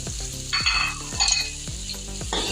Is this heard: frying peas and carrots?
yes